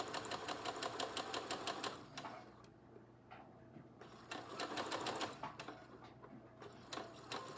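A sewing machine stitches fabric in steady rapid bursts, stopping briefly now and then before carrying on, close and fairly quiet with no talk.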